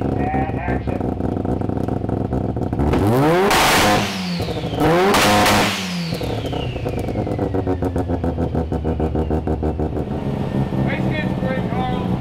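A 650 hp Mazda FC RX7 rotary on the dyno, loud and close, rising through two sharp rev sweeps that peak and drop before settling into a rough, pulsing high idle with faint voices nearby.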